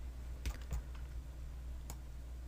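A computer keyboard and mouse during an After Effects editing session: a few isolated, faint clicks spread across a quiet background, with two close together early and one more near the end.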